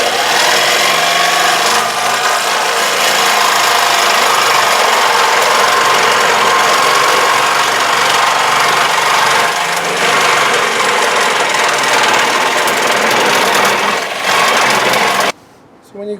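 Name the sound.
power tool cutting a hole in aluminum hood piece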